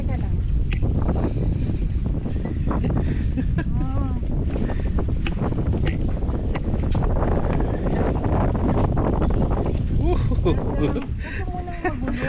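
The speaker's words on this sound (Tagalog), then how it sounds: "Mahangin kaya." Strong wind roars steadily into the microphone throughout on the Zabali Hanging Bridge in Baler, Aurora, with faint voices and water sounds partly buried beneath the rumble.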